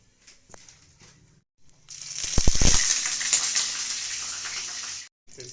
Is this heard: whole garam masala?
yes